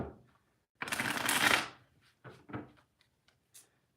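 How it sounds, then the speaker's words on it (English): A deck of playing cards shuffled by hand, one long riffle followed by a few short, crisp flicks and taps as a card is drawn, close and clear. "Let's get a card out from Molly."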